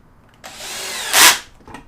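A power drill with its clutch set low drives screws into a wooden drawer during assembly. One close whirring burst swells to a loud peak before the clutch stops it, followed by a faint brief second whir.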